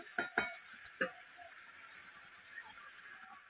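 Chicken pieces with tomato, ginger and cumin paste sizzling in a frying pan, a faint steady hiss with a few soft spoon scrapes and clinks early on, no talking.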